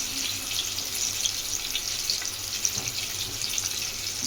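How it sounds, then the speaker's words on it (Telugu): Boiled eggs fry in a pan with a steady, fairly quiet sizzle and crackle, small pops scattered throughout, no voices. "ఇదిగోండి ఎగ్స్ వేగినాయి."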